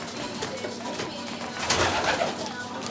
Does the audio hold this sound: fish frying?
no